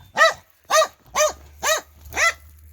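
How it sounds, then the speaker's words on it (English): Excited village dog barking five times in a steady, evenly spaced run, loud and close, with a faint low hum underneath. "Okay, this dog is very, very excited to see me"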